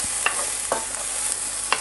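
Garlic and onion frying in a pan over medium heat, a steady soft sizzle with a few brief stirring scrapes and taps, close and alone without talk.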